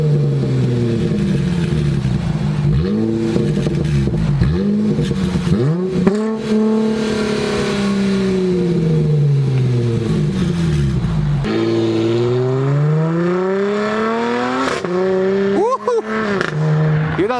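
A V6 Dodge Charger's exhaust revs repeatedly with a low grumble, each throttle blip rising and falling in pitch over a steady engine drone, loud and close.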